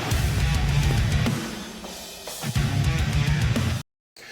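Loud, dense heavy rock track, full distorted guitars and pounding drums in a continuous wall of sound that cuts off abruptly near the end.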